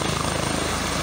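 A helicopter arriving at an emergency scene in Kandel, Germany, its rotor producing a steady, loud, rhythmic low thumping with a constant engine roar and no voices.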